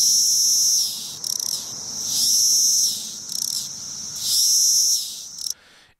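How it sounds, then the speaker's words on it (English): Magicicada cassini periodical cicadas calling in loud rising-and-falling choruses, three pulsing buzzing waves that swell and fade, close and continuous, ending abruptly. "here's what the cassini call sounds like"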